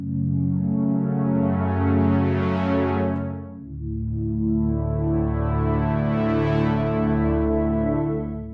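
Ambient synth pad built in Vital with a random Foley layer blended in, two long sustained chord swells with bright shimmering upper harmonics, steady and loud with no voices.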